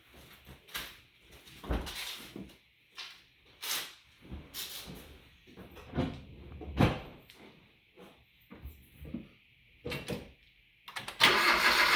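A 2012–13 Hyundai Veloster sits after a spark plug replacement. Scattered clunks and clicks from handling parts under the hood come first, then the engine cranks and roars into a steady idle in the final second.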